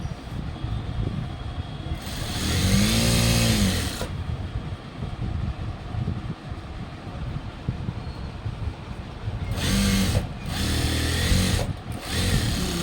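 A sewing machine stitching a school uniform pant runs in loud, steady whirring bursts, one long run in the middle and another near the end. Quieter mechanical hum fills the gaps, close up.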